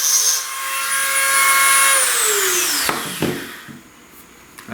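Enlarging a small hole in an ostrich eggshell with a tool, a steady close grinding and rubbing with a whining tone that slides downward, then a few sharp scrapes before it fades.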